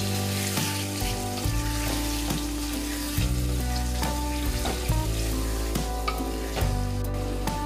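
Mutton blood (nalla fry) frying in a pan with steady stirring, a loud continuous sizzle broken by repeated scraping strokes, close and without talk.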